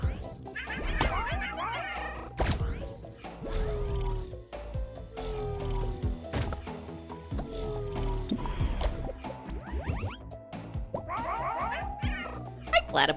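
Cartoonish meows from a cat character in a cat video game, repeated in bursts over busy game music and sound effects, with bouncy boing-like effects; no clear talk.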